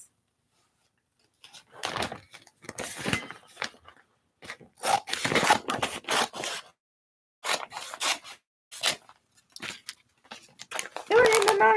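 Scissors snipping through a sheet of permanent vinyl in short irregular bursts of crisp cutting and rustling, close by, separated by brief pauses.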